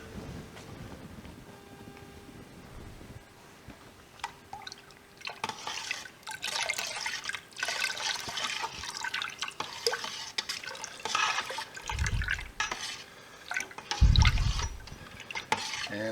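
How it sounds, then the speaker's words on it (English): Liquid rennet poured into milk for making squeaky cheese curds, heard as soft dripping and trickling liquid sounds with stirring, close and moderately quiet, plus a couple of low thumps. "And now we'll add the rennet."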